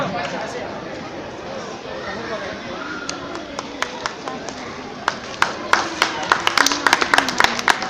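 Audience applause at a speech at a Dr. Babasaheb Ambedkar Jayanti gathering in Kalyan breaks out in scattered claps that grow denser and louder toward the end, under ongoing crowd chatter.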